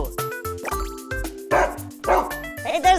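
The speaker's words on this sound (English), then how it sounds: "Hey, there's a dog." Cartoonish dog barks from a children's online video game, a series of short yips and bow-wows repeating through the moment with a light musical background, loud and close.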